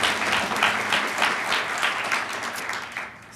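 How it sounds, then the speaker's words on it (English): Lecture audience gives a round of applause for a speaker at a podium event, a steady, moderately loud patter of many hands that fades gradually toward the end. "So if we can also give him a round of applause."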